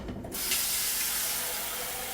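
Cold water runs from a kitchen tap into a casserole dish, a steady continuous hiss of flowing water that starts abruptly and continues alone.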